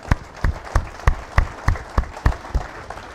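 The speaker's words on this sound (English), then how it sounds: "Bill and his crew deserve a great round of applause for what they've done" Sparse applause at a woodworkers guild member meeting, a handful of people clapping in slow, distinct, fairly close claps.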